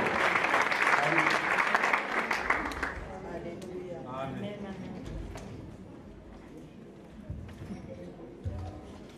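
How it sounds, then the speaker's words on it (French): A church congregation at a praise and worship service breaks into loud applause and cheering for the pastor, the clapping fading out after a few seconds as a voice speaks and the room settles. "Est-ce qu'on peut acclamer pour la servante de Dieu?"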